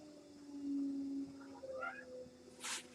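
A cat yowls indoors in a warm sunroom studio, a drawn-out faint moaning caterwaul that bends in pitch, followed by a brief hiss-like burst.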